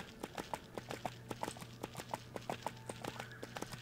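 Horse hooves clip-clop in a quick, even rhythm in the online game EverQuest II, with close, crisp repeated beats and a faint steady hum beneath.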